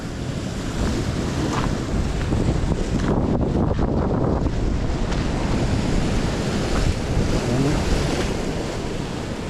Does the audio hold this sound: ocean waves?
yes